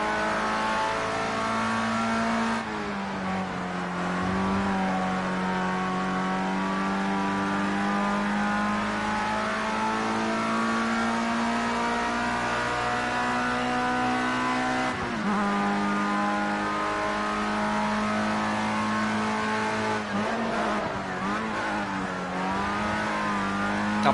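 Formula Rookie open-wheel race car in Project Cars 2 holds a loud, steady high-revving engine whine throughout, with gear shifts and brief lifts around a few corners, alone with no talk.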